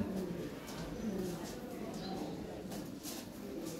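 Soft cooing from a milk-white Lahore siraji pigeon, a few low murmuring coos repeated under faint background noise, quiet and close.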